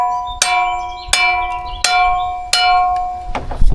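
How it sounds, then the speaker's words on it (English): A metal British garden tool at an allotment is struck four times at an even pace, each hit ringing out loud and bell-like with a clear sustained tone that decays before the next strike, and a rattle at the end. "A good quality British tool always rings like a bell when you hit it."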